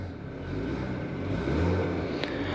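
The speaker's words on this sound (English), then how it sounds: "let's try to hear that little bit of a 4-cylinder engine" A 2023 Ford Escape ST-Line Select with its 2.0L turbocharged four-cylinder EcoBoost engine runs smoothly, a quiet, refined hum with a slight swell midway, heard from inside the cabin with no talking.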